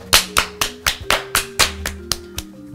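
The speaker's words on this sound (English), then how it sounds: "Please give them a round of applause." Sharp, evenly spaced claps ring out roughly every quarter second, about ten in all, over a sustained musical tone during a school news broadcast.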